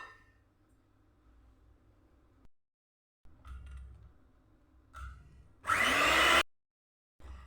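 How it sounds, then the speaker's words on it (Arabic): An electric mixer whips eggs and sugar for chocolate cake batter, starting and stopping in short whirring bursts with one loud, high-speed run near the end, no voices. "نضيف عليها لافاني والسكر ونطلعهم."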